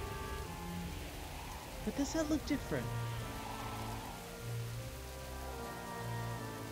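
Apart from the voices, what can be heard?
rain in a video game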